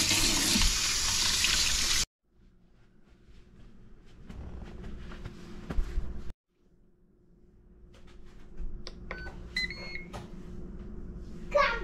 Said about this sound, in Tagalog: Gasin nyo lang mabuti bago nyo palambutin.